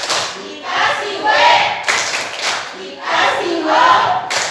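Classroom of students shouts a rhythmic group cheer with chanted bursts and clapping, repeating in short loud waves close by.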